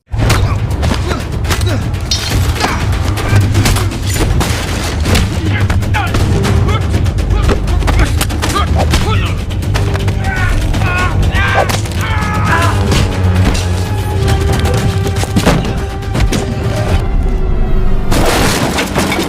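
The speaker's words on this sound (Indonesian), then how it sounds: "sekelompok pemotor suruhan Manuel yang dikenal sebagai geng utara tiba-tiba datang dan langsung memberondong Mark dengan tembakan tanpa ampun" In a film scene, a motorcycle gang opens fire on a man, unleashing a loud, relentless barrage of gunshots and heavy booms, with shattering impacts layered over a dense dramatic soundtrack throughout.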